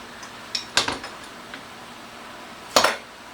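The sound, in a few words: stirring food in a bowl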